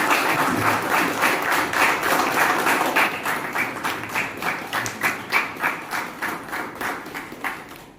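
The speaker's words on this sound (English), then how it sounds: "Can we have a round of applause now?" Audience members at a Toastmasters club meeting clap steadily, a warm rhythmic applause that gradually thins into individual claps before stopping.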